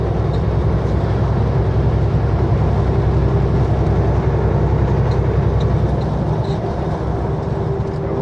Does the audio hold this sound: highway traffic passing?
yes